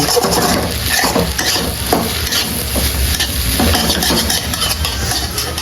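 Plain home-cooked rice being mixed in a pan: a dense, continuous frying hiss with repeated soft scraping strokes of a spoon, close and fairly loud, with no talking.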